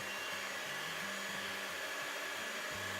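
An electric mixer whisks butter and sugar for a chocolate chip banana cake batter, giving a steady, close motor whir with a faint low wobble throughout.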